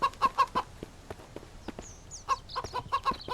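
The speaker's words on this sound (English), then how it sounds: "Damn chickens." Chickens cluck in the survival video game Mist Survival, with quick clusters of clucks at the start and again at the end, a brief chirp in between and faint footsteps underneath.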